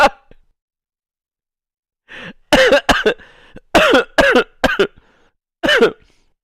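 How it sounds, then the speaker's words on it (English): Several sharp, close coughs and throat-clearing bursts land right on a streamer's microphone in quick clusters, loud against near silence between them. "I didn't mean to cough into the mic."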